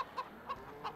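Chickens clucking at a chicken farm in Farming Simulator 15, three short evenly spaced clucks at moderate distance over a soft ambient background.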